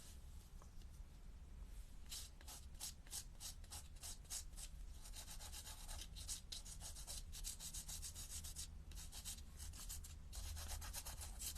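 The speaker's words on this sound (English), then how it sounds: "You're just really sanding the top off a little bit." Close, steady rasping of sandpaper rubbing across the top surface of a handmade Christmas card with a snowflake design, a series of quick repeated strokes with no talking.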